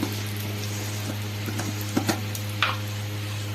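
Ghee heating in a pan on low heat, a soft steady sizzle over a constant low hum, with scattered small clicks and scrapes of a utensil and a few louder taps, no voices.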